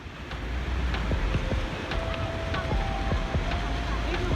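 Steady broadband roar of Niagara Falls blended with wind buffeting the microphone while walking, a constant wash of rushing water at moderate distance, with faint scattered clicks and tones over it.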